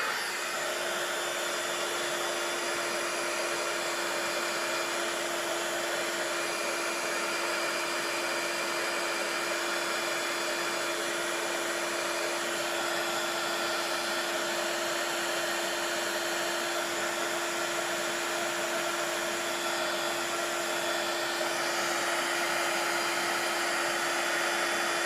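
A handheld heat tool blows on painted and inked artwork to dry it, giving a steady, unbroken whooshing hum that stays at an even level throughout with no talking.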